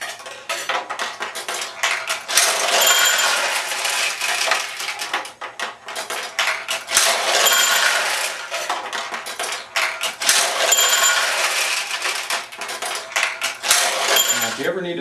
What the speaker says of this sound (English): so I'll drop a ball in there